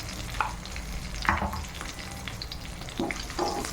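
Spices such as turmeric, chili powder, salt and coriander-cumin powder frying and being stirred in a pan, with a constant low sizzle broken by several scraping stirs, near and steady.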